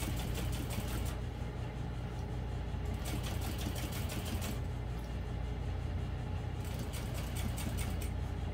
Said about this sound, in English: So I'm going to do a couple stitches and then back stitch